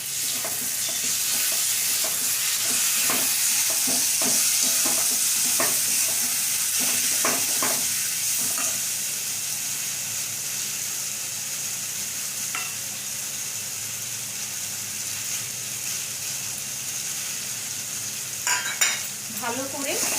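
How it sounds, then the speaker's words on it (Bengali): Spice paste with salt is added to potatoes already fried red in a pan for a Bengali fish-roe fritter dish, and it sizzles loudly and steadily, with a brighter hiss and a few scrapes of stirring near the end. "এবারে মশলার পেস্টটা দিয়ে দিচ্ছি সব।"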